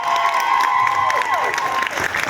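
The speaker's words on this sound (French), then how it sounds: "on lève du bruit pour les applaudissements" An audience bursts into applause and cheering, a loud crowd of claps with voices mixed in, while a steady whistle-like tone holds then slides downward over the noise.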